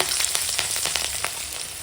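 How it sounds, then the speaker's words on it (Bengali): Green chilies and nigella seeds crackle and sizzle in hot oil left from frying fish, a steady close hiss with quick popping bursts throughout, and no voices. "মাছগুলো এখন ভাজার তেলেই কাঁচা লঙ্কা আর কালো জিরে ফোড়নে দিয়ে দিলাম"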